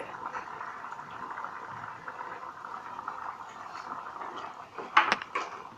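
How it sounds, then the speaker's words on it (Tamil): Chettinad egg kurma gravy simmering in a pot, a steady soft bubbling and gentle patter throughout, with a couple of sharper clinks near the end. "இந்த குழம்பு நல்லா கொதிக்குது இந்த குருமா"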